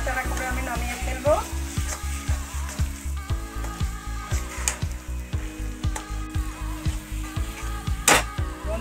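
A shrimp and pointed gourd paste with coconut sizzles steadily in a pan while a spoon stirs it in regular, rhythmic scrapes, close and moderately loud.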